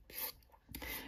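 A natural fingernail is filed with a nail file during gel removal, giving two short bursts of rasping friction strokes, close and fairly quiet, separated by a brief pause.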